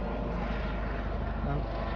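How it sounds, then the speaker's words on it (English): A steady, low rumbling drone from a helicopter passing overhead, loud and unbroken throughout the short stretch. "There's a helicopter going over your head right there now."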